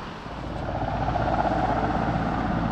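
Firefighting helicopter scooping up water near a seaside old bridge during forest fires, a steady rotor drone and rumble building slightly and holding for the whole stretch, moderately loud and with no talk over it.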